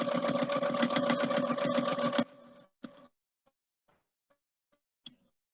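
Sewing machine stitching a quilt block seam for a Big Dipper block, running in a fast steady whir for about two seconds, then stopping, followed by a few faint clicks and one sharp tap.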